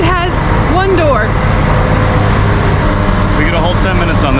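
A single-car diesel train in Munich running with a tractor-like rumble: a loud, steady low engine drone and road-vehicle-like hum throughout, with people talking over it and faint squeals.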